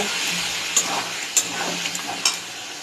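Shrimp, potato and taro stir-frying in a pan, giving a steady close sizzle with a few sharp clacks of a spatula scraping and stirring, no voices.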